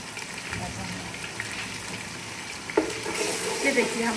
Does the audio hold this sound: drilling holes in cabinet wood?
no